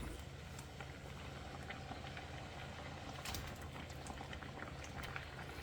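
Sardine curry simmering in a covered pot, a steady low bubbling rumble with faint patter, continuous and close.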